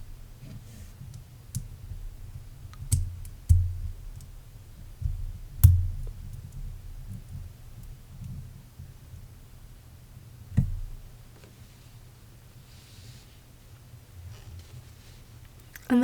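Lego pieces snap together with sparse, quiet clicks, a few sharper snaps standing out against a near-silent, close-up background.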